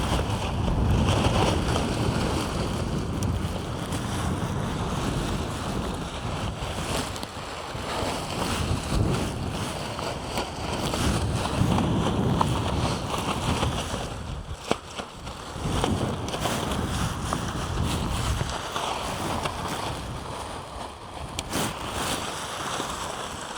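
High winds from Storm Amy at a wild camp while an X-Dome 1+ tent is pitched, a constant loud roar and buffeting of gusts against the microphone with occasional flapping, no voices.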